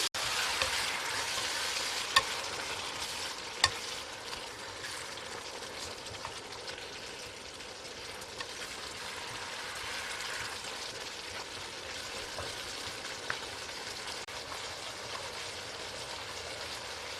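Spicy Korean pork bulgogi stir-frying in a pan after the sauce seasoning goes in, giving a steady, moderately loud sizzle with scattered crackles and a few sharp clicks of utensils, and no talking.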